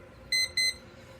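Two short, loud electronic beeps from a kitchen-style timer going off, a clear double pulse with a brief gap, then quiet.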